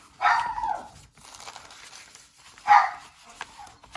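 A dog barks twice in sharp, close bursts about two seconds apart, agitated and anxious, with faint rustling and a muffled voice in between.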